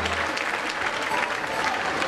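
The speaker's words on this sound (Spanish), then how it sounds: "El aplauso." Steady, dense crowd applause at a live tropical cumbia show, a continuous wash of many hands clapping at even loudness throughout, with no talk over it.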